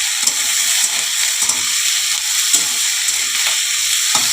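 Cut potatoes and chopped green chillies hit hot oil in a pan and sizzle loudly and continuously, with soft periodic stirring pulses underneath and no talking.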